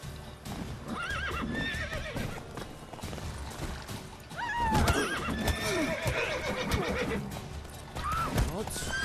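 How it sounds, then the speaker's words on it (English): Roach, a horse in The Witcher 3: Wild Hunt, clip-clops along with repeated whinnies and neighs, loud and close, while someone talks excitedly over the hoofbeats. "I got on my horse!"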